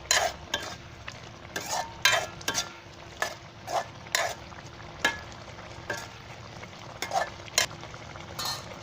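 Potatoes being stirred and fried in a pan, a rhythmic series of sharp spoon scrapes and clinks against metal over a continuous oily sizzle.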